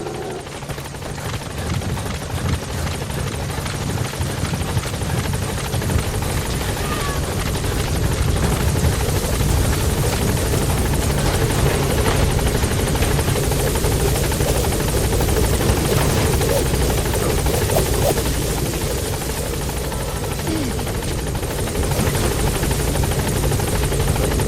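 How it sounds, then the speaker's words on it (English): A support helicopter arrives in the stealth action game Metal Gear Solid V: The Phantom Pain, its rotor a steady, dense whirring roar that swells slightly and holds loud and close for the whole stretch. "Support helicopter has arrived."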